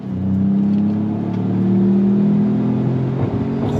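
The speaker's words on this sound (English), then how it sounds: "Quick acceleration for this compact truck" A 2025 Ford Maverick Lobo compact truck engine pulls hard under throttle with manual shifting, a steady loud drone that holds and climbs in pitch before a brief dip near the end, with no talking over it.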